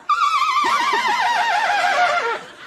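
A horse neigh sound effect: one long, loud, wavering whinny that trembles through several pulses before dropping off, close and alone.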